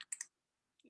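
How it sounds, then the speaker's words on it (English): A short cluster of sharp key clicks on a computer keyboard, the escape key, close and quick, then silence until a voice starts at the end. "I'm gonna click escape if I can."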